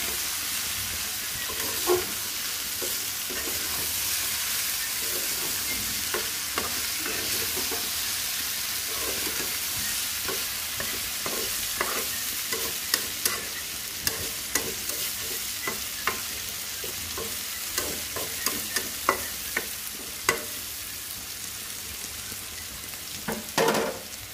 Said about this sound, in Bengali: নেড়ে চেড়ে দিব পরপর।